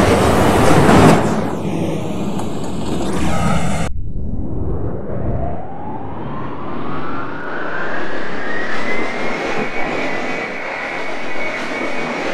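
An R68 subway train on the New York C line: a loud mechanical roar, then after a sharp cut a rising whine as the train accelerates, building into a steady rumbling drone.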